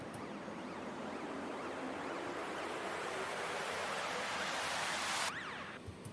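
Rising noise sweep building steadily in brightness and intensity over about five seconds, with a wavering siren-like tone inside, then cutting off abruptly into a brief tail: a riser transition effect leading into a drop in an electronic track.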